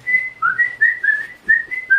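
A person whistles a quick run of clear, bright notes, close to the microphone, in a lively tuneful pattern with short gaps between.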